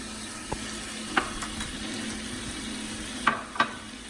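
Minced garlic browning in melted butter in a pan, a soft continuous sizzle with a few light clicks of a utensil against the pan, close and steady with no talk.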